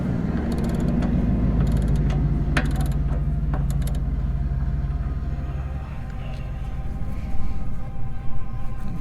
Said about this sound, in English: The Suburban water heater anode rod is a 1 1/16 socket. That's what you'll need to take it off.